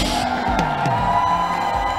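A church congregation shouts and cheers together in a loud, continuous roar of mixed voices and whoops, with no single speaker standing out.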